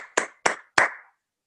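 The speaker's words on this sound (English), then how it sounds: "A real round of applause." Three distinct hand claps in a quick, even rhythm, close and clear, then silence, at the end of an online talk about an entrepreneurial journey with Steve Jobs.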